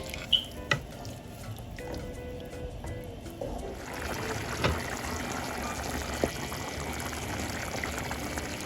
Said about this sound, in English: I'm adding 3 cups of water to 3 cups of rice.